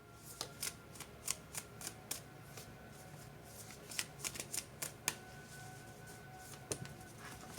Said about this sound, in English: Two cards fell out.